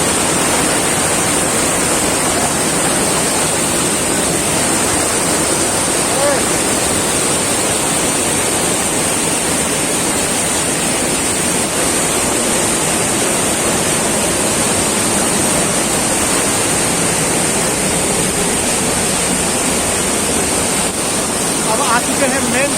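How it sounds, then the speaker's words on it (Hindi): Usri Falls in Giridih roars in a constant, dense rush of water, loud and unbroken throughout, with some wind buffeting mixed in. "देखिए यहीं से ये मेन झरना नीचे की ओर गिर रही है"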